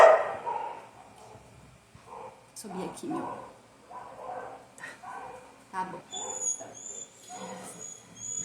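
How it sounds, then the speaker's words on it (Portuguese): A female dog barks in short, intermittent bursts in the background of a home while a person talks steadily over it. "minha cachorra aqui louca."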